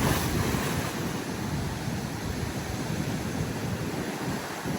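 Large storm waves surging against the shore in the Cayman Islands, a continuous loud roaring wash of surf with heavy wind buffeting the microphone, no voices.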